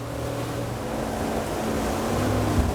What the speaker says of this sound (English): they are a distinctly noisy pair of outboards